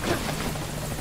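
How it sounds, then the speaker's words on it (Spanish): A helicopter arriving at a landing zone in Metal Gear Solid V: Ground Zeroes, its rotor producing a loud, steady, throbbing drone that fills the whole short moment. "el helicóptero ha llegado a la zona de aterrizaje"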